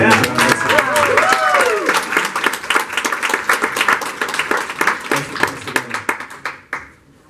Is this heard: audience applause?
yes